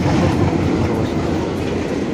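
A train rumbles past close by, a steady dense roar with a faint rhythmic clatter of wheels throughout.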